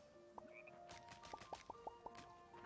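Frogs croak in the Fae Farm farming game, several short bubbly calls in a loose sequence over soft ambient music and light tonal chimes, fairly quiet overall.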